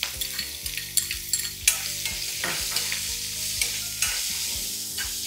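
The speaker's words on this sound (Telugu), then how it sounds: "ఉల్లిపాయలు కూడా మంచి కలర్ వచ్చేంత వరకు వేగాల" Onions frying in oil with mustard seeds, curry leaves and green chilies for a bitter gourd curry: brisk spoon scrapes and clacks against the pan over a continuous bright sizzle, close and loud, with no voices.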